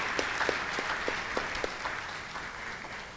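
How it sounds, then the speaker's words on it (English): Audience applause at a business conference as a guest speaker leaves the stage, a steady wash of many hands clapping with a few sharper individual claps standing out, moderately loud and continuous throughout. "Let's give him a round of applause"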